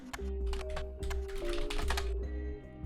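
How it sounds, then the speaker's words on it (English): Keyboard typing sounds from the Roottrees mystery video game, a steady run of quick key clicks in bursts over a low musical drone, with no talking. "I like the typing sounds."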